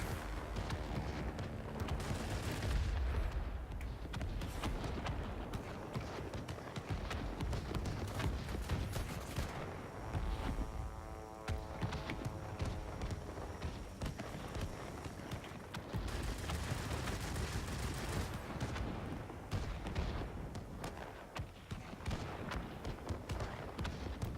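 Aircraft machine guns firing in World of Warplanes, the Me 209 fighter, a dense continuous rattle of gunfire with bursty peaks that holds steady across the whole stretch amid engine roar.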